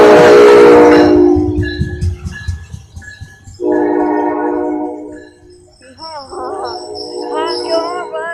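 A train passing Raritan sounds its horn in several sustained, loud blasts of varied pitch, with rail clatter beneath, as bystanders talk and cheer nearby.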